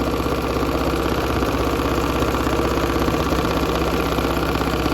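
A sewing machine runs steadily while free motion quilting a T-shirt quilt, its motor giving a continuous, close, even mechanical hum with a fine rapid stitching rhythm throughout, with no talking.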